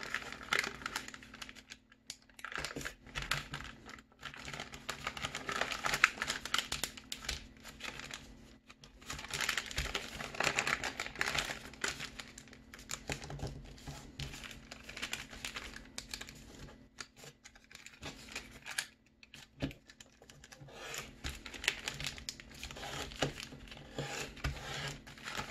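Origami paper is folded into a gift box, with a steady stream of close, soft crinkles, creases and rustles throughout and no talking.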